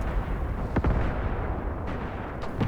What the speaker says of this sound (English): Some artillery impacts are making a strange sound over here in the village.